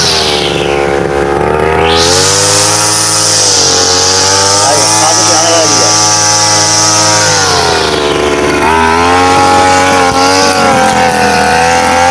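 Motorized cutting machine working across a cricket ground, a loud, steady engine drone with a strong humming tone that runs unbroken through the whole stretch, with people talking over it.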